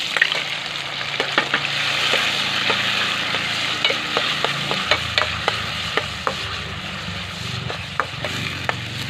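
Garlic and onion sautéing with tomato in a hot pan, a steady loud sizzle broken by sharp clicks and scrapes of a utensil stirring against the pan.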